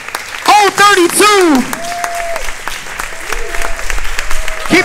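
A crowd at a cocktail benefit auction cheers and applauds: loud whoops rise over a dense patter of clapping that carries on, with voices mixed in.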